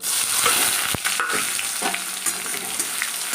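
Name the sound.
onion added to hot oil with spices for dal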